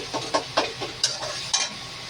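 Masala is stir-fried in a pan with a soft sizzle and a regular series of scraping spatula strokes, about four or five in quick succession. The sound is close, and no one talks.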